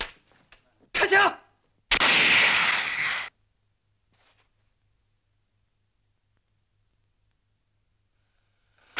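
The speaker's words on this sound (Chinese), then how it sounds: "开枪！" Gunfire in a 1962 Chinese classic war film, heard as a short sharp burst followed by a longer, loud roaring volley that lasts over a second before falling to near silence.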